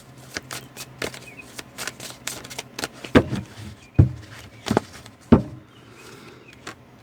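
Tarot cards are shuffled and drawn from a deck during a love reading, giving a run of short papery flicks and snaps with a few sharper slaps near the end, close and fairly quiet, with no talk.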